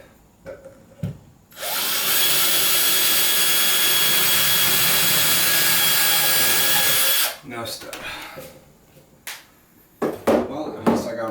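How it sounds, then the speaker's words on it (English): A power drill with a 1/8 inch bit whirs loudly and steadily for about six seconds boring starter holes in a wall for a shelf, then stops, followed by a few clicks and handling noises nearby. "bunch of little starter holes. So I used a 1/8 inch drill bit"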